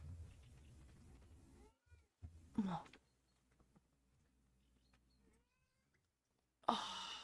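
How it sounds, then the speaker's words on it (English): A domestic cat gives a couple of distinct meows, one in the middle and a louder one at the end, with quiet pauses and a faint murmured voice between them. "I can't change the volume of my cat, I'm sorry."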